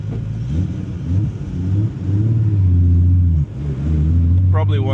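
A car's engine hums low and close while the car pulls away from traffic lights, rising in pitch as it accelerates in first gear. A short dip comes from a gear change partway through, and a voice is heard briefly near the end.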